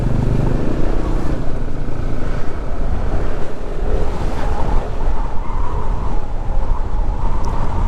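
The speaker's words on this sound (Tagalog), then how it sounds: "Grabe ano dito, lakas ng hangin." Strong wind in the Sierra Madre mountains blasting against the microphone in a heavy, steady roar, with a faint rumble beneath and no clear speech.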